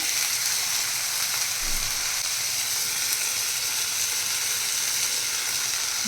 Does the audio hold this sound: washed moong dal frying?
yes